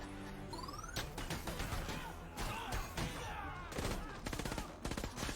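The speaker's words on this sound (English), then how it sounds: "They're shooting a hole in the ground." Rapid bursts of gunfire crack through a tense Batman v Superman warehouse fight scene, dense volleys repeating across the whole stretch over a loud, busy film mix with impacts and crashes.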